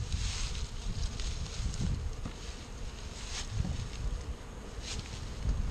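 Honeybees hum at an open beehive whose lid they have been building comb on, a steady, low, fairly faint buzzing drone with no voices over it.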